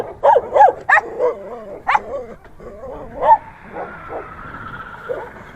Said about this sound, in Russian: Тибетские собаки.